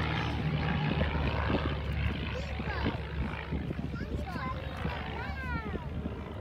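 An aerobatic propeller airplane manoeuvres over the RAAF Museum at Point Cook, its engine drone rising and falling in pitch throughout, heard under a commentator's continuous talk.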